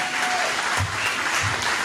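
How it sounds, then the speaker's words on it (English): An audience at a hypnotist's stage show claps in a dense burst of applause that holds steady for the whole moment. "Give a round of applause, come on."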